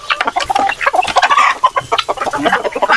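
Native chickens on a small farm cluck close by in quick, irregular bursts, with loud overlapping calls throughout and no talk.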